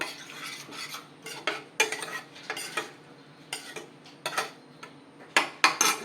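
A spoon stirring banana stem buttermilk kootu (vazhaithandu mor kootu) in a pot, giving a series of irregular clinking scrapes and taps against the metal, close and moderately loud, with short pauses between strokes.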